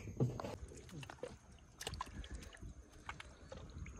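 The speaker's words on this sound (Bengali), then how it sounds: "নৌকা তো নদীতে আমরা ভাসিয়ে দিলাম" A small wooden boat is pushed onto a foggy river on a fishing and crab-catching trip; faint water sloshes and knocks against the hull, quiet and close, with low background noise.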